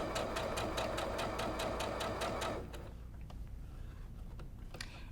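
A sewing machine stitches along a marked line on a flying geese zig zag quilt block, running in a fast, even burst for a few seconds, then stopping, leaving a few faint ticks.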